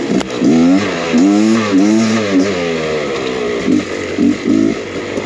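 An enduro dirt bike engine revs and shifts while riding, loud and close, with rising and falling pitch sweeps through throttle changes and no talking.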